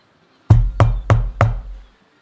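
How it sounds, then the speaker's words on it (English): Four firm knocks on a wooden chamber door, evenly spaced and close, each with a heavy low thud and short ring, followed by quiet. "a knock at the door to your chambers sort of gives you a jolt"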